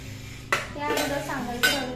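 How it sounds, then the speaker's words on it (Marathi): A metal mixer grinder jar is handled in a home kitchen: two sharp metallic clinks and knocks about a second apart, with softer scraping between them, close and fairly loud. "त्यानंतर आता मी इथे मिक्सरचं भांड घेणार आहे."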